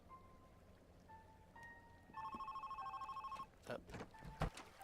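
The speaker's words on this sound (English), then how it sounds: "Also be careful, sometimes phones turn on." A telephone rings in the heist video game Monaco, first as faint single tones and then as a loud, rapid electronic trill, followed by scattered thumps and clatter.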